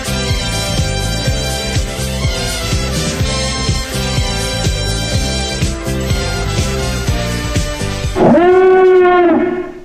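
A howling alarm sound effect goes off suddenly near the end, a loud wavering wail like a dog or wolf howl, breaking in after a long stretch of dense, busy music.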